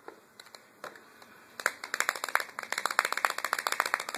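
Child's toy producing a clapping sound, a few scattered claps at first, then a fast, steady run of crisp clapping bursts close by.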